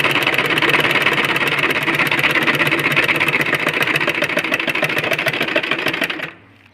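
A sewing machine stitches a baby frock in one long, steady run of rapid, even needle pulses, close and loud, which stop abruptly near the end.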